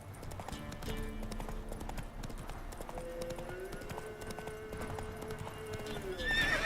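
A horse gallops in The Witcher 3: Wild Hunt with rapid, continuous hoofbeats close by, and a whinny rises near the end.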